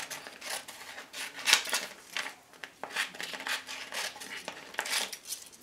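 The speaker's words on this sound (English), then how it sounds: "I'm gonna take my scissors and cut off the three sides." Scissors snip through a thin 6x8 cellophane bag in a quick, close run of crisp cuts and crinkly rustles, fairly quiet with no voices.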